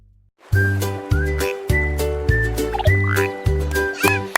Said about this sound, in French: Ces grenouilles étaient assises les unes à côté des autres.